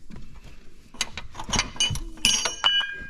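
Metal bolt being pushed out of an engine mount, a few close clinks and scraping mechanical knocks, quiet and irregular.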